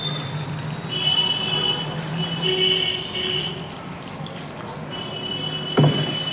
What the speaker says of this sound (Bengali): তো চলো এখানে জল অ্যাড করে দিই।